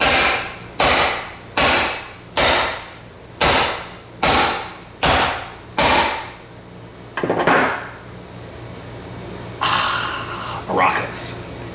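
Hammer smashing a hard drive: a series of about eight loud, hard metallic whacks in a steady rhythm, followed by rattling and clattering as the broken drive is handled and shaken, close up.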